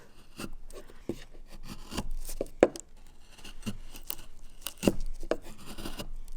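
Sharp scraping and cracking cuts of a sharpened chisel into wood grain, several irregular strokes with a few crisp snaps, close up and alone.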